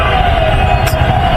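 An ambulance siren wails loud and steady over city traffic at night in Hitech City, Hyderabad, a continuous tone filling the short stretch.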